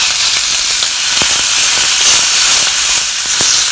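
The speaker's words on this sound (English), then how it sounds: "I'm just searing the meat and getting a little bit of the pork fat extracted out from here." Pork belly searing in a hot pan, a loud continuous sizzle and hiss of rendering fat with scattered small pops and crackles, close up and steady throughout.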